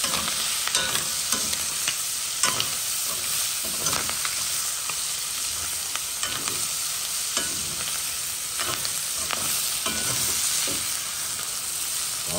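Ham and onions frying in a pot for rougail, stirred by hand: a continuous close sizzle with a regular series of scraping, clattering stirs every second or so.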